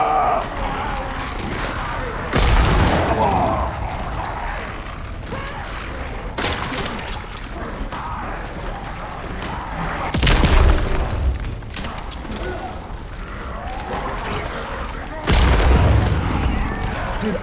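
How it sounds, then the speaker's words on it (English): Bomb blowing up during a round-20 boss fight in a zombie video game, set off by a Jack in the Box; three loud booming bursts come at intervals over a steady bed of game noise. "I hit the bomb with the Jack in the Box and blew it up."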